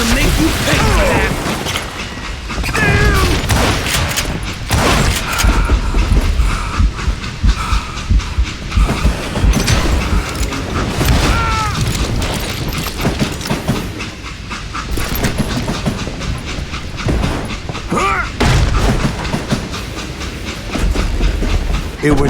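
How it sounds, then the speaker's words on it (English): A train rolls along steadily in the video game Call of Juarez: Gunslinger, a loud continuous rumble with rattling clatter and hissing bursts that carries through the whole stretch, with shouted dialogue and noise mixed over it. "It was then that Jesse detached the express car from the rest of the damn train."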